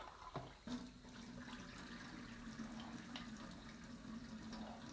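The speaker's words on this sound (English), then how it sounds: "So what I'm going to do is just give that a quick rinse out." A coin tumbler barrel rinsed out under a running sink tap, a quiet continuous rush of water with a couple of soft splashes near the start.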